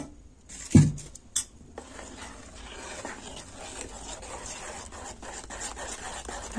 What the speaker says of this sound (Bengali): ভালো করে গুলে নেব।